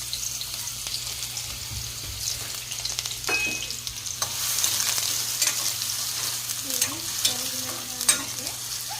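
Cumin and onions go into hot oil and fry with a steady sizzle, broken by several sharp scrapes and clinks of stirring, close and moderately loud.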